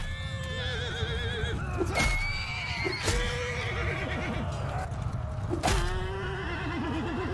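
Horses neigh repeatedly amid a battle in Mount & Blade II: Bannerlord. Several loud, shrill whinnies ring out over a dense, constant din of combat, with hoofbeats and clashing underneath.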